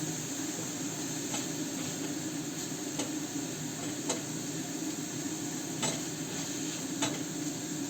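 Minced meat fries in a pan with a steady, even sizzle and hiss throughout, broken by a few faint scraping stirs, and no voices.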